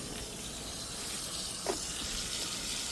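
Water gushes steadily from a hose used to flush out a root-clogged sewer drain line near a bush, a continuous broadband rush with one brief splash midway.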